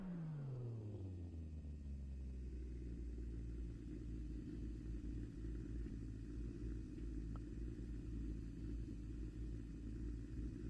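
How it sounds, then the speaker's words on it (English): A Toyota A70 Supra in a racing game: a steady, deep engine rumble that drops in pitch at first and then holds a loud, even drone, with no one talking. "Danger Graphics pulling up in the A70 Supra"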